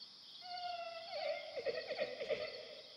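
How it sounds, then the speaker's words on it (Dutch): Wavering, high-pitched whimpering cries from a cartoon character, rising and breaking into sobbing pulses, faint and heard alone. "Hoor jij ook iemand huilen?"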